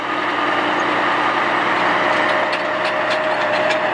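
Kirovets K-701 tractor engine running, heard as a loud, steady, unbroken mechanical drone with a low rumble throughout.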